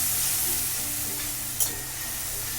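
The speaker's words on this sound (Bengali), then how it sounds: "আদা আর টমেটোর পেস্টের বাটাটা দিয়ে এটাকে আমি ভালো করে ভেজে নিয়েছি" Ginger and tomato paste fry in a pan with a continuous close sizzle, broken by one brief sharp clink partway through.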